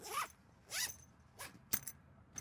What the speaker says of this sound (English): And you zip that all shut